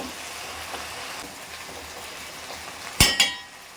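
Prawns frying in a pan with vegetables for a prawn curry with drumstick, brinjal and potato. There is a soft, steady sizzle, then a couple of sharp metallic clinks of a utensil against the pan near the end, and no talk.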